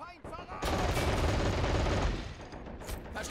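Dense, sustained burst of machine gun fire in a war video game, loud and close, with a voice speaking underneath.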